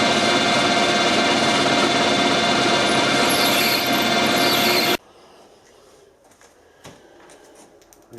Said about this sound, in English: I'm just going to put a small drill in here because I don't want a lot of flow through the fitting.